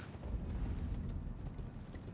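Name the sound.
horse hooves in the video game Elden Ring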